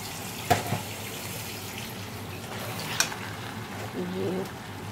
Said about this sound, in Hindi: ये पानी डाल दिया हमने और इसको गलने के लिए रख देंगे।